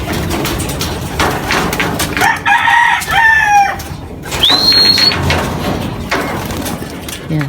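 Chickens cluck while a rooster crows nearby in a loft of newly arrived birds, several overlapping calls and a clear crow standing out over background noise.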